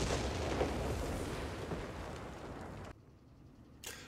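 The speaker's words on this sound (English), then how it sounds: "then there'll be some artillery firing on this position, which will hopefully damage these units" Base artillery fire in the Company of Heroes 3 video game: a loud rumbling barrage with dense booms fills most of the stretch, then drops to quiet before a final short burst.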